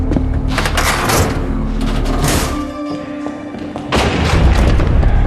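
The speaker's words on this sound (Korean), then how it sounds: "갑자기 들려온 총소리." Sharp booming reports ring out over a noisy background, followed by a brief lull and another heavy thud.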